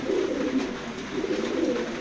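A pair of racing pigeons in a loft coo softly and continuously, a low throaty burbling that rises and falls in gentle waves.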